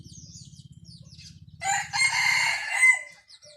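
Low, rapid clucking from bantam chickens nearby in a farm coop, then a rooster lets out a loud, long crow over them.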